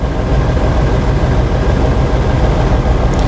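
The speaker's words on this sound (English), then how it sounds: "Once we hear the RPMs drop, that's it right there." A loud, steady truck engine drones throughout while pulling against its brakes during an air brake test, a deep continuous rumble with no clear change in pitch and no voices.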